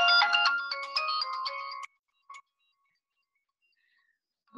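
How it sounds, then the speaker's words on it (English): A mobile phone ringtone plays a bright, loud melodic pattern for almost two seconds, then cuts off into near silence with a faint blip before a sudden noise at the end. "Excuse me, my phone ringing."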